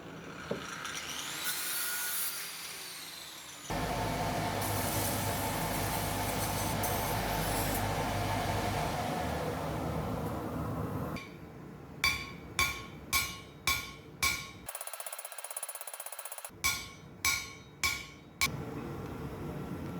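A hot steel spear blank is struck on an anvil to cut off its handle, with a burst of sharp ringing hammer blows in quick rhythmic groups following stretches of scraping and blower-like noise.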